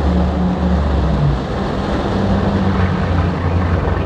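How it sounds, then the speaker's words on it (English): Twin V8 engines drive a Saxdor 320 GTO boat cruising with the sport exhaust off. The result is a loud, smooth, continuous low drone with a steady hum and no talk. "now you've got beautifully refined twin V8 engines, smooth as you like"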